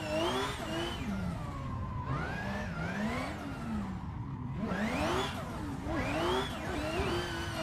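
A race car engine in a sim racing game on a rig revs up and down in long sweeping cycles, loud and close, with whining gear pitch rising and falling and faint tire scrub between the pulls.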